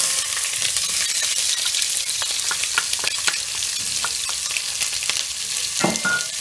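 Onions hit hot oil for a beef masala and give a loud, steady sizzle, with scraping stirs and small crackles running through it, ending in a sharper burst near the end.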